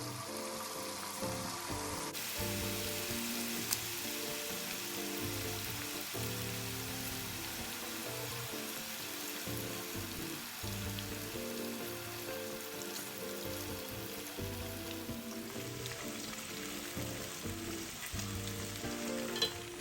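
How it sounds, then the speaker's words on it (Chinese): Marinated chicken pieces deep-fry in oil over medium heat for chicken rendang, giving a steady, dense sizzle and bubbling hiss that runs the whole length close by, with no talking. "油热至5-6成，再将腌制后的鸡块放入，中火油炸。"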